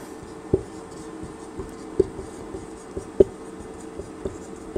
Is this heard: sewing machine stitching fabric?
no